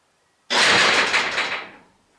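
A door opens or shuts in a workshop where a car is being repaired after rust and primer work: one sudden loud, broad rushing burst that fades away over about a second and a half, with no voices.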